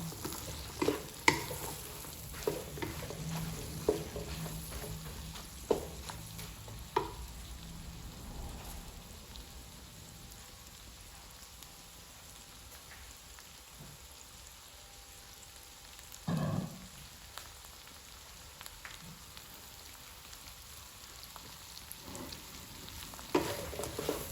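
Zucchini stir-fried in a pan, a steady crackling sizzle with repeated sharp scrapes and clanks of stirring, close by and without talking.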